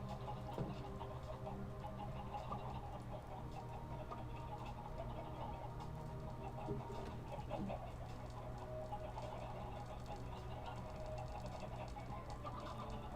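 Minecraft chickens cluck in scattered, soft bursts over a constant mechanical hum and busy game ambience, low in level throughout with no talking.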